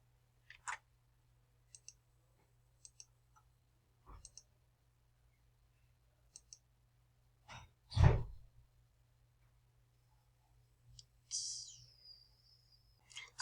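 Computer mouse buttons click sharply, singly and in quick pairs, scattered over several seconds in a quiet room, with a soft breath-like noise in between.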